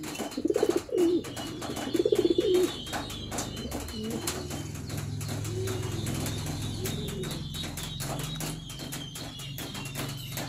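Pet pigeons coo in a cage with soft, rolling calls near the start. A steady rustle and low hum follow, with faint bird sounds continuing beneath.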